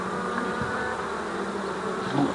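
Honey bees around small mini nucleus hives make a dense, continuous buzzing hum that stays steady and close, filling the air without pause and with no voices.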